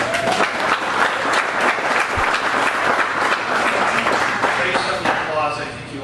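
Audience applause at a political congressional debate in Springerville, dense sustained clapping from a crowd, loud and continuous, tapering slightly at the end with murmuring underneath.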